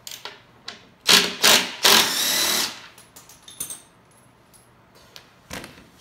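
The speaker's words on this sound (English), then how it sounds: "So you're going to need your impact driver, wrench, remove the bolt." An impact driver removes the mounting bolt from a stock ski during a ski swap, giving several loud, close bursts of rattling hammering, the longest lasting about a second and a half, followed by quieter clicks and handling sounds.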